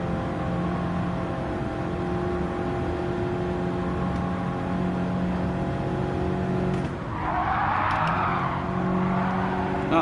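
A race car engine drones at steady high revs in Gran Turismo 7, then a quick short shift brings a brief dip and a hissing burst before the engine pulls on, loud and continuous with no talking.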